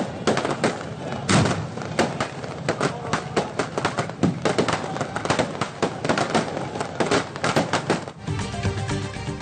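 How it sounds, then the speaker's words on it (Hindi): Fireworks display at an Independence Day celebration on a bridge in Karachi, a dense stream of crackling bursts and booms popping in rapid irregular succession at moderate distance, with faint crowd noise beneath. "शाहराह फैसल बलोच कॉलोनी पुल पर भी जबरदस्त आतिशबाजी।"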